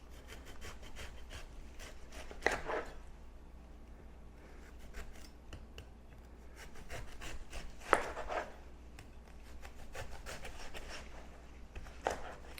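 A serrated knife sawing through a watermelon, quiet rhythmic rasping strokes close by, with a few sharper knocks as the blade hits the board.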